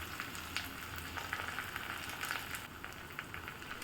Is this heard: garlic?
yes